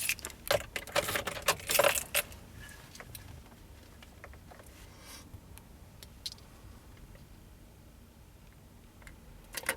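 Car keys jangle and clink in a cluster of bright metallic rattles over the first two seconds inside a 2004-2007 Scion xB, followed by sparse faint clicks and a quiet background.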